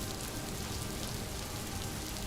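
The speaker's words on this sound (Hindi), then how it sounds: "कुछ देर तक सिर्फ बारिश की आवाज सुनाई देती रही।" Steady rain pours down onto surfaces in a quiet room, an even, continuous hiss of drops with no pauses and no voices.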